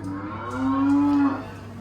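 A dairy cow gives one long, loud, close moo that rises and then tapers off, set against a low steady hum.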